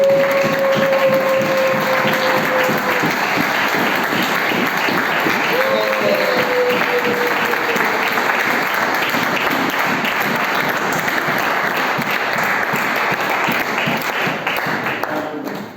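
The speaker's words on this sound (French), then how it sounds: "Est-ce qu'on peut applaudir très très fort pour la parole de Dieu?" A church congregation applauding long and loudly, a thick continuous roar of clapping with some voices calling out early on, steady from start to finish before fading slightly at the end.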